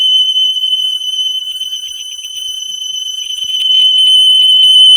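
An ADT Impassa home alarm siren blares during a full system test, a loud, piercing electronic tone that holds steady and then pulses in fast stuttering bursts, swelling louder near the end.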